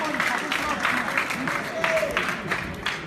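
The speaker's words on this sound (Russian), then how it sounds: "Аплодисменты, дамы и господа." Audience applause after a fight at a combat sports event, with steady clapping and crowd noise through the whole stretch while someone speaks over it in Russian.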